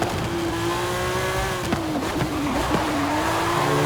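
A Lamborghini Sián Roadster in Forza Horizon 5 accelerates hard, its engine tone climbing steadily in a loud, close, sustained roar with a brief tire squeal midway.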